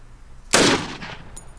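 A single sharp gunshot from a Wilson Combat Beretta 92 pistol fired with old surplus ammunition, a loud close crack with a short decaying tail, followed by a faint metallic clink.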